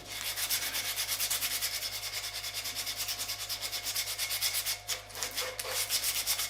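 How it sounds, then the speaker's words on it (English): A small torn piece of 120 grit sandpaper rubs back and forth over a wooden dussack training sword, making close, rhythmic rasping strokes in a quick, even series with a brief pause near the end. "I will now go over to using 120 grit sandpaper"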